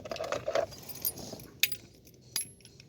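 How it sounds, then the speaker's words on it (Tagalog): Keys jangle as a car key is pulled from the stuck ignition of a 1995 Toyota Corolla, with a few faint clinks and metallic taps spread over a quiet moment, close and soft. "Tanggalin ko muna yung susi."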